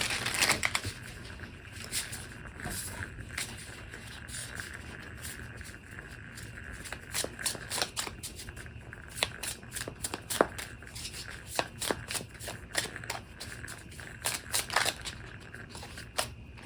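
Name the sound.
shuffling Light Seer's Pocket Tarot cards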